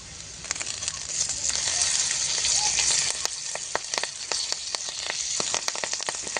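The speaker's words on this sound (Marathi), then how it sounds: "मसाले छान परतून झालेले आहे." Turmeric, red chili powder and curry leaves fry in a pan over a chulha, making a close, steady sizzling hiss dotted with sharp crackles and pops.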